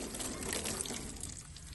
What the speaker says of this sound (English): So I'm going to pour some water on it.